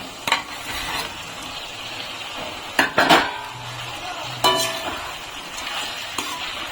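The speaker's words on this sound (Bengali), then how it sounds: "ফুলকপি দিয়ে ভালো করে নেড়ে চেড়ে নেবো" Cauliflower florets with a little sugar are stirred in a pan for chilli cauliflower. A soft sizzle runs under scraping and several clanks of the spoon against the metal pan, loud and close.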